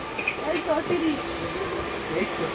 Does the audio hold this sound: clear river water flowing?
no